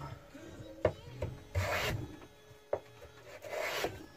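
A Lie-Nielsen No. 60 1/2 block plane takes wood shavings, giving quiet, close scraping strokes in a loose rhythm of about four passes, each swelling into a rasping hiss with sharper clicks between.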